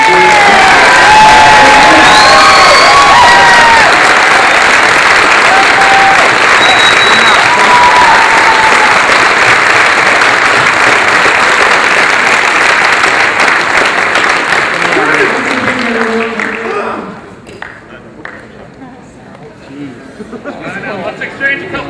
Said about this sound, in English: we want to give them a huge round of applause for being here